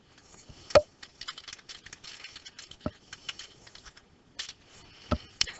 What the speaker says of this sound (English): you click where you want your text to go, and you just start typing